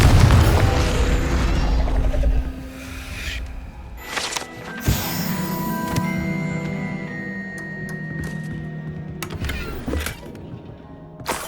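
A Confringo spell explodes in Hogwarts Legacy with a loud opening boom, then a rumbling tail and several sharper impact bursts spread over the scene, with no talking.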